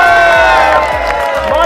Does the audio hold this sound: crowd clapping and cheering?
yes